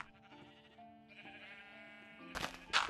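Sheep in the video game Minecraft bleat in a few short, wavering calls, fairly faint, followed by louder bursts of other game sounds near the end.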